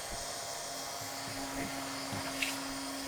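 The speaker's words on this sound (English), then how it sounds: "So now we've got it all welded." Hot air welder fusing a roofing membrane at a T-joint on a roof, a steady blower hiss and whine running continuously at moderate level with faint handling noises.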